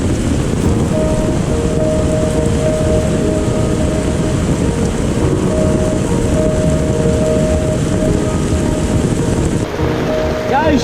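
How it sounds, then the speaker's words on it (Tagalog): Heavy rain pours down steadily and loudly during a typhoon, with a low rumble of thunder running underneath the whole time. "Sobrang lakas ng ulan."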